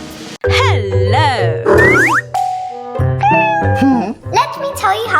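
Several short cat meows, bright and upward-bending, come in quick succession during a pretend vet play scene, with a voice talking between and over them.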